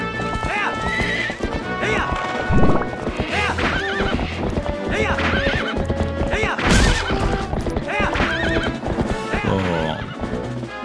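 Horse galloping in the Zelda: Twilight Princess HD video game, steady clip-clop hoofbeats with occasional whinnies over busy game music, loud and continuous throughout.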